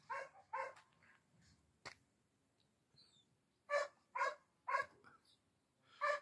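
A hunting dog barks outdoors in a short burst of sharp yelps, then a quick series of four loud barks after a pause, with faint background noise between.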